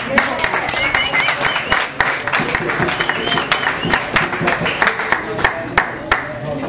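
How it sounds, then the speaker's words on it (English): An audience claps steadily at a drum festival, a crowd's scattered applause continuing throughout, with a voice speaking over it. "please give a big round of applause"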